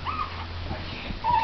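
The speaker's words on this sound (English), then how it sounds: "These are Shihpoos, one half Shih Tzu and one half Poodle." A four-week-old Shih-poo puppy, half Shih Tzu and half Poodle, whimpers with a thin high whine near the start and again at the end, faint over a low steady hum.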